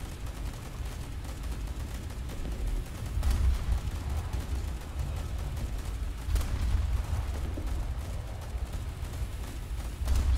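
A naval ship in a video game fires its broadside guns: deep booming thuds recur every few seconds over a constant low rumble of battle, with no talking.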